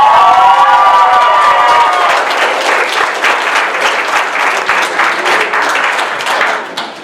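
An audience at an anime convention panel for Sailor Moon voice actors applauds and cheers, loud dense clapping with whoops and shouts filling the hall, slowly tapering at the end.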